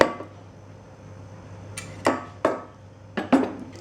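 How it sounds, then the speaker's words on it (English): A regular whisk mixing vanilla sponge cake batter in a bowl, a few sharp clinking taps against the bowl at uneven intervals over quiet background. "then mix it, just like that, using just a regular whisk"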